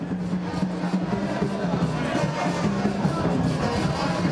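Stadium crowd of red-shirted Kotoko football fans at a match in a provincial Ghanaian town, a steady dense roar of massed voices with faint chanting throughout, moderately loud and distant, with no clear single voice on top.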